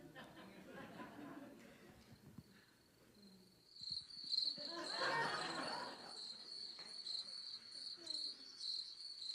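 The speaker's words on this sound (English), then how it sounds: "I like crickets, I really do." Crickets chirp steadily in a quiet night setting, a thin continuous trill with soft background murmurs and faint rustling.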